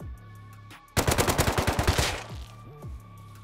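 Burst of automatic AK assault rifle fire in the game Rust, a rapid string of about a dozen loud close shots over roughly a second, followed by a short ringing tail and faint game sounds.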